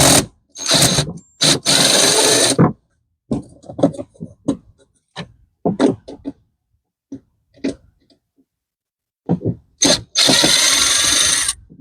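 Power driver with a Phillips bit backing out three small bolts on a Club Car Precedent golf cart during a lithium battery kit install, loud whirring bursts at the start and end with scattered clicks and clatter between.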